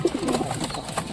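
A pigeon coos softly and closely in short, throaty repeated pulses over about a second.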